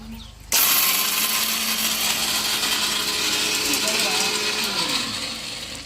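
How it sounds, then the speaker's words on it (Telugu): A mixer grinder grinds a ginger and garlic chutney, switching on abruptly after half a second and then whirring loudly and steadily to the end, easing slightly at the close. "వెల్లుల్లి రెబ్బ వేసేసుకొని బాగా మిక్సీ పట్టేసుకోవాలి"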